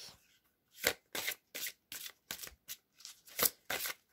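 Oracle cards shuffled by hand, about nine quick papery riffles in a steady rhythm, close and crisp with silence between bursts.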